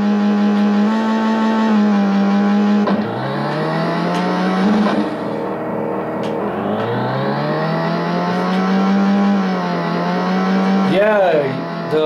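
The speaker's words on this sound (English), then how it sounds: "Yeah, the engine sounds like it's horrible." Race car engine in the Al Unser racing video game, a loud continuous synthetic drone that climbs and drops in pitch through repeated revs and gear shifts, filling the whole stretch without pause.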